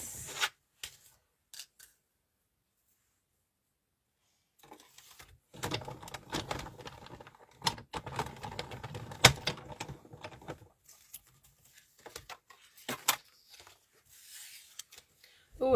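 A die-cutting machine presses butterfly shapes from a scrap piece of paper, giving a stretch of crackly, rattling mechanical grinding after a near-silent pause, then scattered clicks and rustles.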